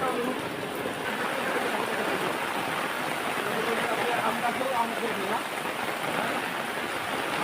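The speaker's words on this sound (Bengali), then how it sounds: "রহমতের বৃষ্টি বন্ধুরা দেখেন বৃষ্টি আছে" Steady rain falls outdoors near mango trees, a constant even hiss filling the whole stretch while a voice speaks briefly over it.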